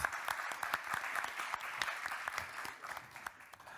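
An audience at a conference on circular economy in electronics claps steadily, a moderately close, sustained round of applause from a mid-sized crowd.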